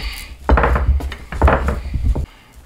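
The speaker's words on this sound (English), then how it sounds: "Then I'm going to start kneading, just a little flour on the side." Bread dough, made with sardines, being kneaded by hand on a floured wooden surface: a close series of soft thumps, slaps and rubbing scrapes in an uneven rhythm, then a quieter pause at the end.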